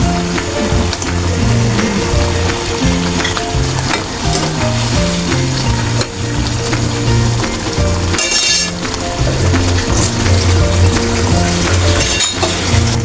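Fried eggplant pieces are tipped into hot oil in a pan for an egg and eggplant curry, setting off a loud, steady sizzle with stirring and a few metal clinks throughout; no one speaks.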